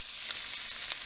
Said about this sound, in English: You're going to go in there with your cumin seeds first. And you're going to see them start to sizzle.